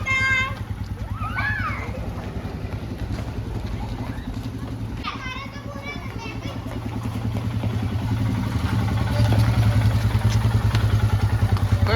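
A motorcycle engine runs steadily throughout with a low rhythmic throb growing slightly louder toward the end, while people, including a child, talk over it.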